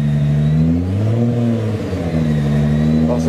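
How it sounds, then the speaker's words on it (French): Turbochargers blow on an 1800 hp Nissan GT-R as the engine holds a steady, fairly loud drone with a brief dip and rise in revs; the turbo rush sits close and constant. "T'entends les turbos qui soufflent."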